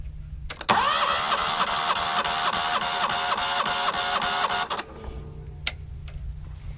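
The engine of a neglected 1998 Yazoo YTKC22 three-wheel mower cranks on the starter without firing during a compression test, a loud, rapid, even chugging that lasts about four seconds and then cuts off abruptly.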